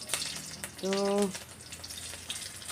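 Nigella seeds and green chili fry in hot oil with a soft, crackling sizzle, briefly interrupted by a short tonal hum partway through.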